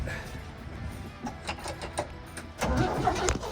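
An old Scout engine cranks on its starter, a quiet rhythmic series of whirring turns at moderate distance, growing louder and rougher near the end without catching.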